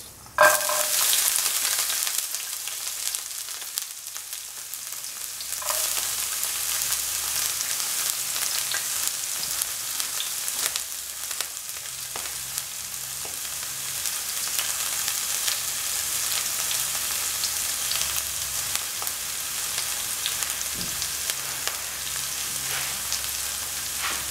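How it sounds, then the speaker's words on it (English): Shallots fry steadily in a pan for a curried seer fish dish, a loud continuous sizzle with occasional stirring scrapes and no talk. "Now put in the shallots."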